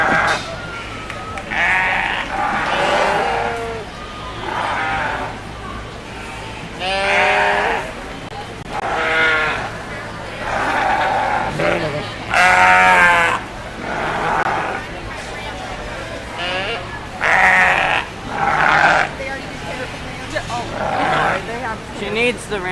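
White Lincoln sheep bleat repeatedly at a 4-H/FFA breeding show, with loud, wavering calls coming every second or two over a steady crowd murmur and background chatter.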